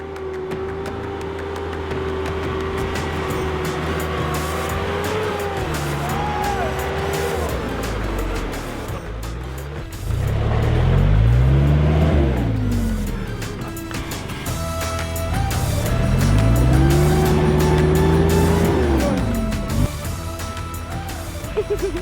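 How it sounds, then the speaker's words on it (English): A heavily loaded truck on a steep hill road on Koro Island, Fiji, after Cyclone Winston, its engine revving and labouring upward in long strained surges that rise and fall, with people talking over the engine noise throughout. "It's a hill obviously climbing nice and up and high before you head down towards Vatulele, and our truck is struggling."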